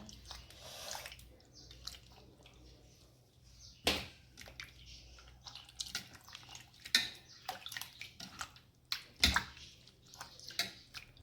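A raw mango seed, its pulp already scraped off, is rubbed and rinsed in water, with quiet intermittent splashes, squishes and drips.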